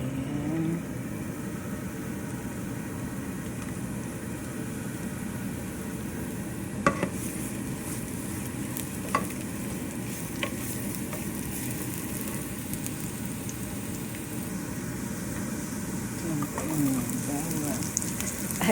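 Pansit bato noodles with broccoli sautéing in a pan, a steady close sizzle and crackle with occasional scraping stirs, under intermittent speech.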